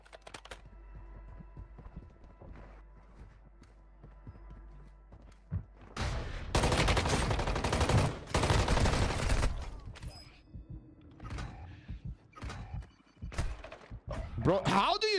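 Rapid bursts of gunfire from Warzone Mobile on Rebirth Island, a dense loud stretch of shots in the middle with scattered sharper cracks before and after, under a player's voice talking.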